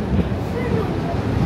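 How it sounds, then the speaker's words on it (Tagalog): Steady roaring wind buffets the microphone in Hong Kong, a constant broadband rush with low rumbling gusts that never let up. "Ang lakas ng hangin."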